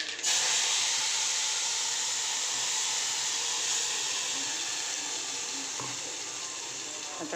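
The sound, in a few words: ground tomato paste sizzling in hot oil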